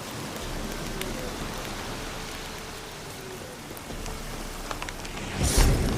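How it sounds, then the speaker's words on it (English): Steady rainfall hiss in the video game The Witcher 3, with scattered drops, fairly soft and continuous, ending with a brief louder burst of noise. "Looks like rain."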